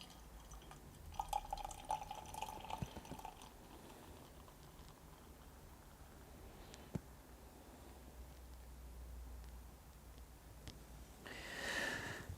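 Vuurgloed, a liquid-licorice beer from De 7 Deugden, is poured from a bottle: faint drips and small liquid splashes, then a soft fizzy rush that swells near the end, quiet and without talk.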